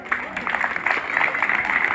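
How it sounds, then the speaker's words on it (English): Audience clapping at a school's 27th speech and prize giving day, a moderate round of applause from a crowd that fills the short moment, with a voice speaking over it. "A round of applause for Hasia Hussaini for that wonderful presentation"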